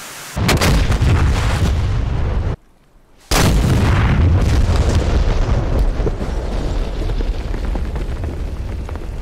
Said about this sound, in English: it will track with the laser and boom, hit that far left target.